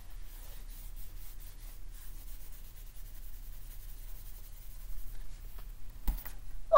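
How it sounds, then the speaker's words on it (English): An eraser rubs letters off a whiteboard, a soft, steady scrubbing that runs for several seconds, fairly quiet and close, with a slightly louder swipe near the end and no talking. "now we're going to erase two letters for the word day"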